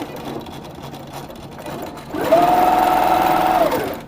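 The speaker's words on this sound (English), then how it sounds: "guide our fabric in between, and we're going to backstitch a little bit." A sewing machine piecing fabric on a Little Rebel machine, backstitching a little: a low background rumble gives way to a steady fast mechanical whir that runs for over a second and then stops, close and alone.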